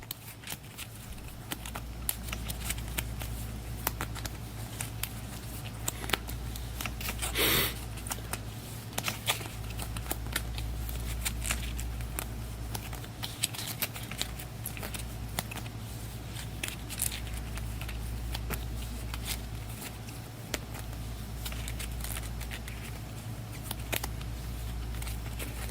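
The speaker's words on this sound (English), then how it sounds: "Just going to give these a quick shuffle" Metal Gear Solid board game cards are shuffled by hand, a long run of soft papery riffles, slaps and rustles, fairly faint and continuous against a low steady background hum.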